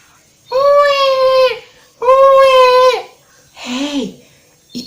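A baby cries in two loud, sustained wails followed by a shorter, lower sob, each separated by brief silence, close and clear.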